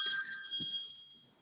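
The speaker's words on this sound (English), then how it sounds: "whose phone's ringing?" A mobile phone rings during a panel discussion on sleep treatment, its bright electronic tone repeating steadily through the short moment with no speech over it.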